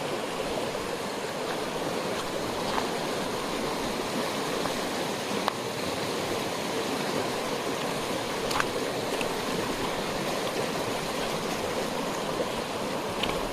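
Stream water rushes steadily on a forest hike through tiger territory in the evening, a constant broadband wash that is close and unbroken, with a few faint clicks and no voices.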